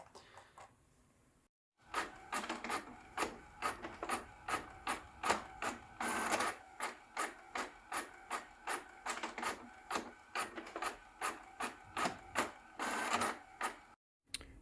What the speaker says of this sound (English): Whoops, printers, they never change, do they? Right, I have 75 pages of labels all printed out.